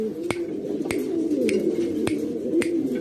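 Breeding pigeons give a low, steady cooing murmur, with sharp taps at roughly even intervals over it.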